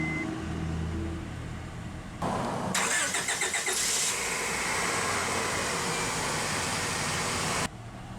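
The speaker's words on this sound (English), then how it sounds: "let's go ahead and start the engine." A 1997 Honda Accord is cranked by its starter for a moment, catches and settles into a steady, quiet idle that runs on evenly, recorded close with no talking.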